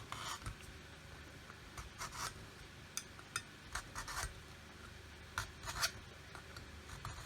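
Pencil scribing a line along a strip of tape, a quiet dry rubbing rasp heard in short irregular strokes with brief pauses between, close by and faint, with no talking.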